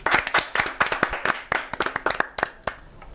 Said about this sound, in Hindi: चूंकि जोर जोर से तालियां बजा रही हैं पूनम जी हमारे कंटेस्टेंट नंबर 2 की